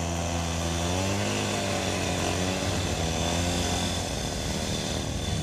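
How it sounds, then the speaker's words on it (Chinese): A power saw, started by a firefighter for a stage challenge, cuts through a steel plate with a loud, continuous motor whine whose pitch climbs and then holds steady as the blade bites into the metal. "锯子发动了"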